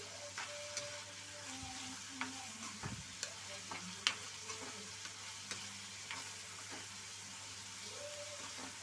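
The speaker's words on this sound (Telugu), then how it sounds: "ఇలా బాండీలో తీసుకున్న ఉల్లిపాయలన్నీ కొంచెం మగ్గాలండి." Chopped onions sizzle and soften in a kadai while a utensil stirs them, making steady frying hiss with scattered scraping clicks, close and moderately quiet.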